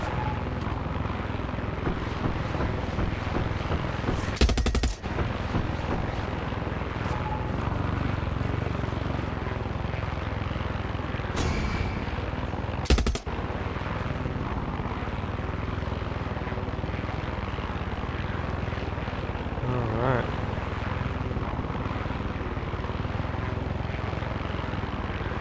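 A video game helicopter in Far Cry 6 drones steadily throughout, its rotor hum constant, broken by a couple of sharp clicks.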